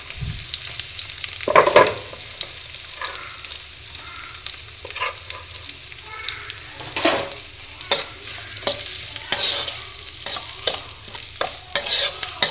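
Onions, curry leaves and green chillies sizzle steadily in a pan while a utensil scrapes and stirs, giving irregular clattering bursts over a soft frying hiss.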